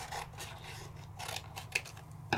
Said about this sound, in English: So let me trim it on down.